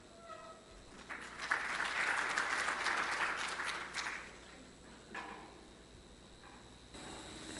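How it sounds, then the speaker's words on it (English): Sustained audience applause at a conference talk, rising quickly to a broad, steady wash of clapping for a few seconds, then thinning into scattered claps and fading to room murmur. "should be applauded by all of us"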